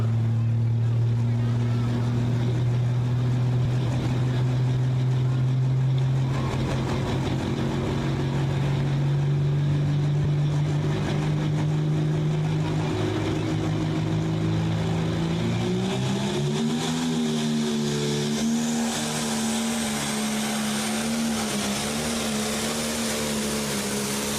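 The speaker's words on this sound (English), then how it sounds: "Nick Elsinger, 37, John Deere 7310R." John Deere 7310R tractor at a county fair tractor pull, its engine a loud continuous drone that climbs in pitch partway through as it pulls, with an announcer talking over it.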